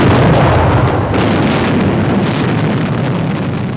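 Loud, sustained explosion rumble from a 1959 film's bomb blast, a dense roaring wall of noise that holds steady for several seconds and fades only slightly, with no voices over it.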